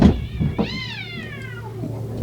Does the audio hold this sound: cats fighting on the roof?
yes